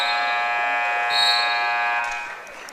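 A loud, steady electronic buzzer sounds in a gym to end the third quarter of a varsity boys high school basketball game, holding for about two seconds before fading.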